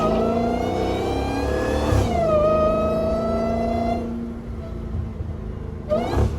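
A Dodge Hellcat's supercharged engine revs hard, its supercharger whine climbing and then holding as a bright, sustained tone, then dropping away before a second short rev near the end, close and loud.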